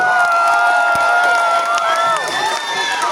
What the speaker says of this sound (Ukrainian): Ще раз, ще раз, оплески для Волиняки Аркадія Войтюка.